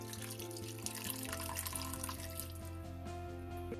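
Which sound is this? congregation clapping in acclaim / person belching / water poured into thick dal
water poured into thick dal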